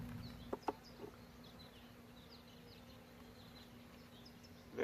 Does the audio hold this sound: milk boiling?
no